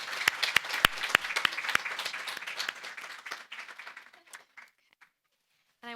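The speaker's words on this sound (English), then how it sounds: "Let's give a big round of applause" An audience at a fall accounting careers panel applauds the panelists: a few sharp, close claps ring out over a wash of crowd clapping that thins and fades out, followed by a brief burst of talk at the end.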